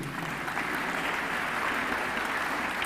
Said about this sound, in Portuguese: Aplauda o Senhor por essas vidas aí.